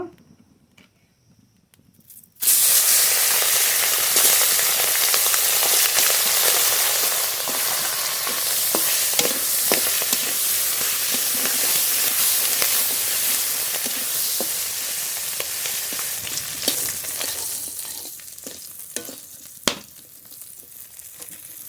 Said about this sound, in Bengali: লবণ হলুদ মাখানো এই মাছগুলো ভেজে নেব